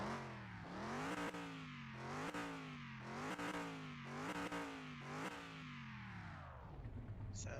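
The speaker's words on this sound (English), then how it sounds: "Let's give it a few revs here." The V8 engine of a 1998 Salem Overking revs repeatedly, rising and falling in about six even cycles before settling back toward idle, loud and close with no talking.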